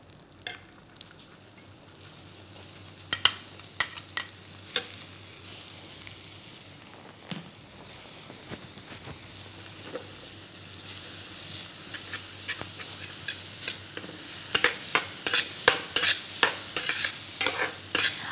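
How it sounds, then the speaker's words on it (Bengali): Chopped onion fries in butter in a pan, a steady close sizzle with frequent scraping stir strokes and clicks that grow busier and louder toward the end, with no voices. "এই বাটারে এবারে পেঁয়াজ কুচিটা ভালো করে ভেজে নেব।"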